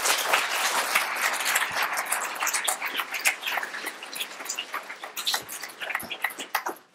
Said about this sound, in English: Can we give a round of applause for Mr. Greenblatt?